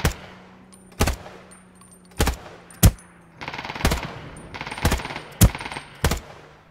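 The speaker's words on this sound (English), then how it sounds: "someone's shooting over there." Gunfire in the battle royale game Ring of Elysium: sharp, loud single shots spaced about a second apart, with a burst of rapid fire and distant clatter in the middle, over a low steady background hum.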